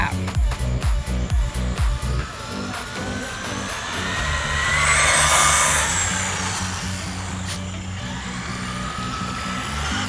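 A Traxxas Bandit 2WD RC car runs at full throttle, its high electric motor whine rising and sweeping past as it speeds up, loud and continuous, with outdoor noise and some brief low thumps at the start.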